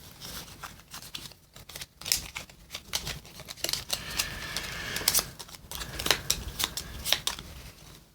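Board game cards for Dragon Eclipse being shuffled by hand on a table, a close series of quick riffling bursts and soft slaps repeating irregularly, with no talking.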